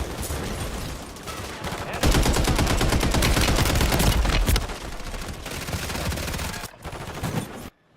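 Rapid automatic gunfire rattles during target practice in a PC shooter video game, dense bursts of shots in quick succession, loud and sustained for several seconds before cutting off.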